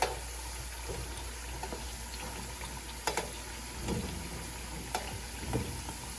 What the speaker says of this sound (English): You want to fry them up just until about golden brown